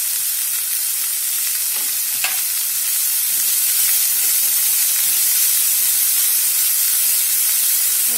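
Vegetables for Manchow soup, with boiled sweet corn and spring onion, sizzle and hiss as they are stir-fried in a hot pan, a loud continuous close frying sound with faint scrapes.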